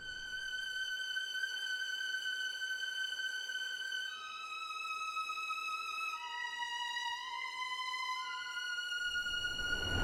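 A high, sustained violin-like synth line playing slow held notes that descend in steps, clear and alone with no voices, in a vintage soul style.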